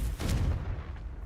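Confringo fire spell blast in the Hogwarts Legacy video game, a loud booming explosion with a rumbling tail that fills the whole moment without speech.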